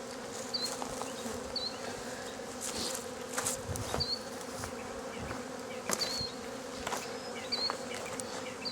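Bees buzz steadily as they fly around and enter a hive, a dense continuous drone with brief louder passes as single insects come close, and sharp chirps recurring above the hum.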